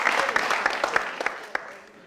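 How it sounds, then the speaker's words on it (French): A small group applauds on a French-language televised entertainment show, with distinct hand claps loud at first and thinning out over about two seconds as a voice talks over them. "Les gars, on peut l'applaudir."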